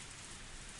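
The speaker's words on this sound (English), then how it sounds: "The sudden rain has us in a bit of trouble." Steady rain falls in a scene from the Higurashi visual novel game, a dense, even hiss of drops on a surface with no other sounds.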